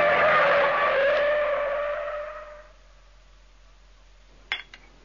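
A car with faulty steering, from a slackened track-rod nut, skids with a loud, sustained tyre squeal that fades over a couple of seconds. A quiet hush and a brief sharp knock follow.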